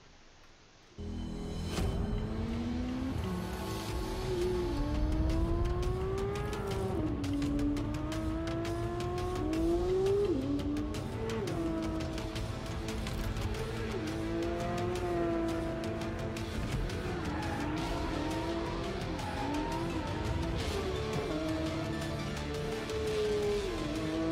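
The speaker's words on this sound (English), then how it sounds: "let's have a look at the new Porsche 911 GT3 in action." A Porsche 911 (992) GT3 sports car drives on road or racetrack, its engine roaring loudly and continuously, pitch climbing and dropping through repeated revs and gear changes, with no speech.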